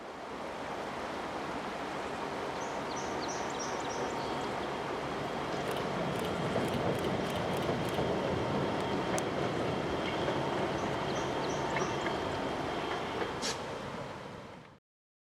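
A Canadian Pacific train rolls past on the Rockland Subdivision at Winslow's Mills in Waldoboro, a steady, close, broad rumble of railcars with faint high squeals that holds for about fifteen seconds, then cuts off.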